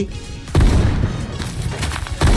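Loud, heavy gunshots in a video game that adds many new guns, with two big booming blasts and a busy stretch of firing between them, close and punchy.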